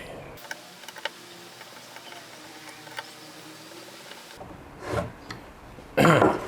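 Screws driven by hand into the base of a Stanley SBW400 cordless trimmer: quiet scraping and faint ticking up close, followed by a few louder handling knocks.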